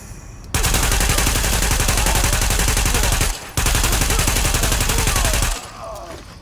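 Sustained automatic fire from a light machine gun in The Division, a loud continuous stream of rapid shots with a brief break near the middle before firing resumes, then stopping near the end.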